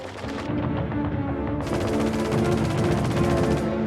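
Rapid, sustained machine gun fire in a World War I trench warfare scene rattles loud and close, continuous bursts sometimes overlapping with heavier booms.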